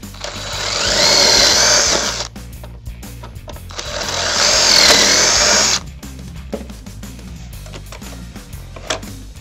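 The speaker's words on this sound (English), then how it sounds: "Now let's go ahead and drill this demonstration piece." Power drill whirring through wood to bore pocket holes in an Armor Tool Auto-Jig, two loud sustained drilling bursts separated by a pause, then clattering handling noises.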